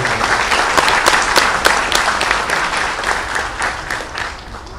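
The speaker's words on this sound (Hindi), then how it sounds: "आप भी कीजिए, जोरदार ताली" Loud, dense applause from a large audience at a public event in India, a steady wash of many clapping hands with a few sharper claps standing out, fading slightly toward the end.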